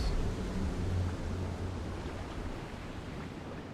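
Steady, broad wash of beach surf rolls continuously in Demon's Souls, soft and even with a low rumble underneath and no distinct breaks between waves.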